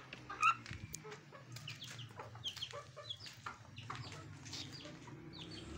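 Aseel hens clucking softly while settling in to lay eggs, a steady low murmur of fowl sounds with a brief louder cluck near the start and a rooster-like call now and then, in a farmyard cage setting.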